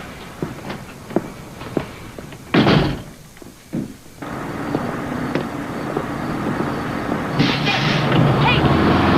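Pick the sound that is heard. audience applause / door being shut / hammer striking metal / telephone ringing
door being shut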